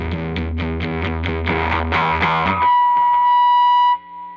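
A violin runs through a Bunnel Heavy Metal distortion pedal, with the tone scooped. It plays a fast run of loud, gritty, buzzy bowed notes, then ends on one sustained distorted note that cuts off abruptly. No one speaks.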